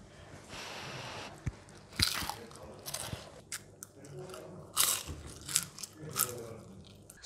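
Crisp, crunchy bites into hot, freshly fried shrimp tempura, several sharp crunches spaced across the stretch with close chewing between them over faint room noise.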